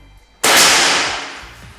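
A single sharp, loud crack of a shot from an air rifle, close by, with a bright burst that fades over about a second and a half.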